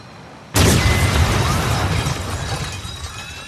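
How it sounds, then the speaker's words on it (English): A sudden loud explosion in a film scene bursts out after a short quiet moment, then a roaring, rumbling debris wash slowly fades. "an explosion goes off behind him"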